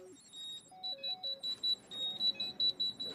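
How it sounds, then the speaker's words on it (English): Electronic alarm from a termite bait station, triggered when the insects chew through the wood and break its circuit: a rapid train of short, high, evenly spaced beeps, close and clear, with no talking. "When the termites chew the wood, they break an electrical circuit, setting off an alarm."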